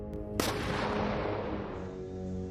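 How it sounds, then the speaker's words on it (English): A fiber-optic FPV drone strikes soldiers at night with a sudden sharp blast. A heavy, sustained rumbling roar follows and continues for about two seconds. "The fiber optic drone managed to hit the soldiers and a huge explosion occurred."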